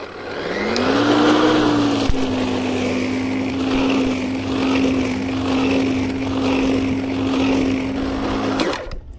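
WORX 40V 14-inch cordless electric lawn mower, model WG779, spinning up and cutting through high grass, a steady motor whine that rises at the start and holds with a rustling cutting wash, then cuts off near the end.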